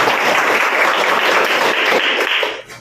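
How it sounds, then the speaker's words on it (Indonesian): Group of students and teachers in a school classroom clapping together, a loud, dense burst of applause that holds steady and then tapers off at the end. "Kasih tepuk tangan buat kita semua."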